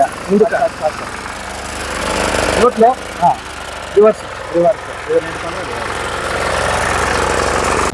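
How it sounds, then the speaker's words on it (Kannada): A steady mechanical diesel engine drone from a power tiller runs throughout, close and continuous, with people talking intermittently over it. "ಇದು ಡೀಸೆಲ್ ಇಂಜಿನ್"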